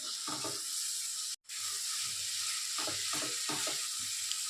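Boiled peas go into chicken keema masala frying in a pan, a steady high sizzle with a few stirring scrapes, one brief gap near the middle, no voices.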